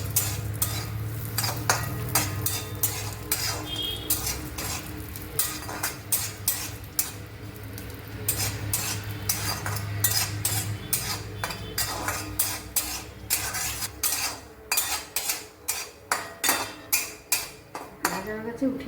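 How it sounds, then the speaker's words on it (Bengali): Chopped coconut frying in oil in a pan, with a quiet sizzle beneath frequent sharp clinks and scrapes of a metal spoon against the pan, growing into rapid repeated taps toward the end. "নারকেলটা ভেজে নিচ্ছি।"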